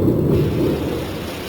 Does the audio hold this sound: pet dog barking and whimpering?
no